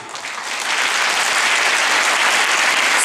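A large audience claps steadily, a dense, loud wash of applause swelling in the first second and holding unbroken, setting up a dance performance.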